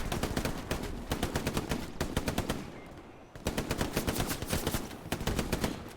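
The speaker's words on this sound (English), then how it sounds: "the Milky Turtle lays down loads of bullets onto them" Sustained machine gun fire in the World War II shooter Hell Let Loose, long rapid bursts of close, loud automatic shots with a brief pause midway, alone without talk.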